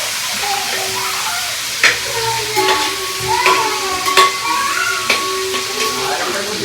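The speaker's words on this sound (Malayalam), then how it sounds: "ചിക്കൻ കുറേശ്ശെ ആയിട്ട് നമ്മൾ വറുത്തെടുക്കുന്നുണ്ട്" Chicken pieces fry in a little oil in a home kitchen, giving a steady sizzle broken by occasional sharp clinks and scrapes of stirring.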